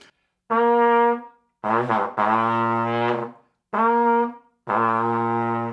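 A four-valve flugelhorn sounds low pedal tones an octave down, four sustained, mellow brass notes played up close and alone, each separated by short silences.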